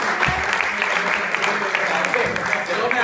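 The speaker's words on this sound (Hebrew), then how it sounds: "יפה מאוד, כפיים מאוד," A group applauds at a fitness workout session after a timed exercise round, steady dense clapping filling the whole stretch with a faint voice underneath.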